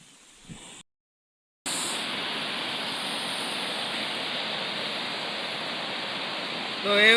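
Floodwater pours over a dam in a steady, loud, broadband rush after a brief dropout, continuing unbroken to the end with no voices.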